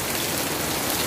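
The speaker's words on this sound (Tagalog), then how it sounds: "Napakalakas ng ulan." Heavy rain pours down in a dense, steady hiss of drops striking surfaces, loud and close, with no voice.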